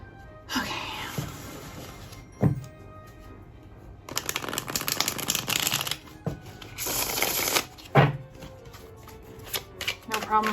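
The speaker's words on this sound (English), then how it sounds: "Let's give it a shuffle here." A new Forest of Enchantment tarot deck on Llewellyn cardstock gets shuffled up close in several bursts of crisp riffling and card slaps, with pauses between and a quiet voice talking now and then.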